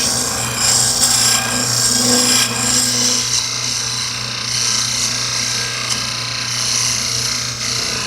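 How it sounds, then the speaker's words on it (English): A spindle roughing gouge turns a wood blank into a full cylinder on a lathe for a toothpick dispenser, giving a steady, continuous rasping scrape over a constant motor hum, close and fairly loud with no talking. "And now I can make that a full cylinder using the spindle roughing gouge."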